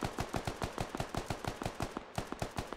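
Rapid automatic gunfire in SquadOps, a steady, even burst of roughly twenty shots at a fast rhythm with a brief break near the end, moderately loud and close.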